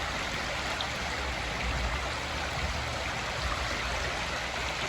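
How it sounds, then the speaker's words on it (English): A mountain stream near Hot Springs, North Carolina rushes steadily, a dense broadband wash of flowing water close by, with no voices. "There's you, a mountain stream"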